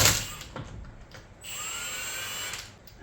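A power tool removes lug nuts on a Toyota Tercel wagon, with short whirring bursts and a sustained high whine from the tool, fairly close, separated by brief quiet gaps.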